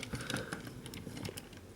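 A computer keyboard on a desk is bumped and shifted during a toy review setup, giving a quick scatter of light plastic clicks and taps close to the microphone. No one speaks over it.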